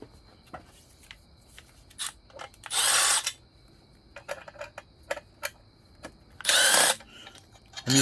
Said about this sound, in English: I'm using my Milwaukee M12 with a Phillips number 3 bit.